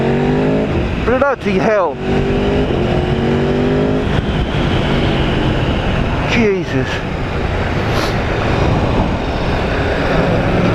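Aprilia Tuono V4 1100 Factory motorcycle engine pulling hard under acceleration, a loud continuous roar with rising pitch sweeps and gear changes, heard close while a rider exclaims over it.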